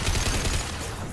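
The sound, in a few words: gunshots from the video game Mass Effect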